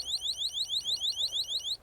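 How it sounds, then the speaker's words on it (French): The anti-theft alarm on a Lemmo One e-bike sounds a loud, steady electronic alarm, rapid rising chirps repeating about eight times in quick rhythm, alone and close. "une petite alarme."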